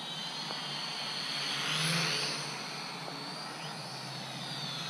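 A Helicute H818HW RC quadcopter flies nearby, giving a steady high-pitched whine that swells and then eases slightly as it passes closer and moves away.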